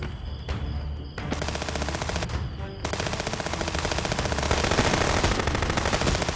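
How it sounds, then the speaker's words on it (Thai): Gunfire in a shootout in the video game Contraband Police, set at a sawmill: sustained rapid machine-gun bursts rattle continuously and grow louder, with brief gaps between volleys. "ยิงกันเพียบเลยอะ"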